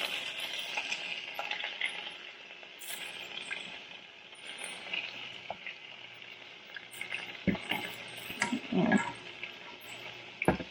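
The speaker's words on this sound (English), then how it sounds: "butter in here. to help these guys fry." Frozen pierogi frying in butter with onions in a pan, a steady low sizzle and crackle running throughout with occasional spatters and stirring clinks, louder bursts near the end.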